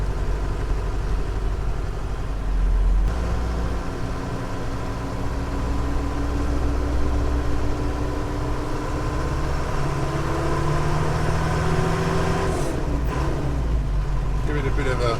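Engine of a 6x6 Perentie ambulance idling with a cold gearbox, a steady close rumble with droning tones that shift slightly, a person talking over it.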